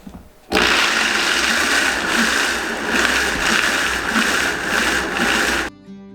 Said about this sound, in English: I'm just gonna use our Vitamix because I use it for everything.